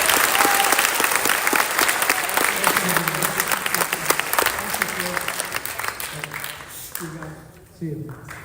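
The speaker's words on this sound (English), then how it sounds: "clap it up for Mark Cuban." A high school audience gives Mark Cuban loud, dense applause that slowly thins out. A speaker's voice comes through over the fading clapping near the end.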